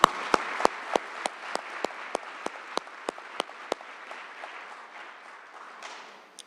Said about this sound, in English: Give him one of my round of applause.